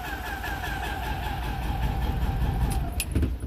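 A BMW Isetta engine idling in a shop while running too rich, a steady close drone with a wavering tone and slight uneven roughness throughout.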